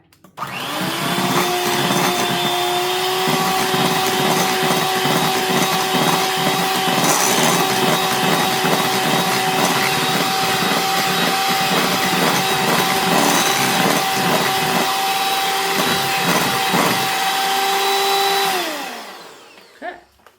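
A KitchenAid stand mixer whirs loud and steady while beating carrot cake batter, its motor hum holding level for about eighteen seconds before winding down to a stop.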